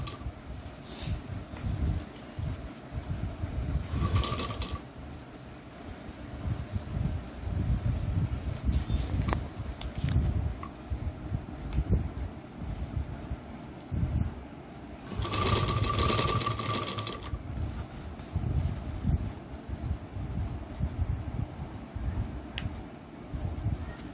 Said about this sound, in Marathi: त्यामुळे सावकाश शिलाई मारायची आहे